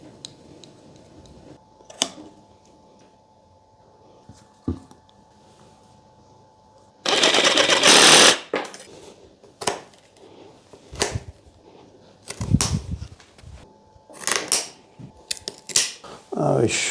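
Cutters snip branches on a wild oriental hornbeam yamadori bonsai, giving a scattering of short, close clicks and crisp snaps at irregular intervals, with a brief burst of rustling partway through and quiet room tone between cuts.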